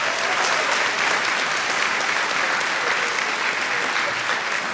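Steady, dense applause from a town meeting crowd, a continuous wash of many hands clapping at even loudness for several seconds, with no voices standing out.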